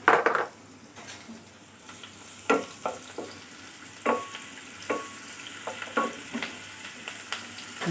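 Onion sautés in a little oil in a pan, giving a quiet, steady sizzle broken by close stirring scrapes and clinks.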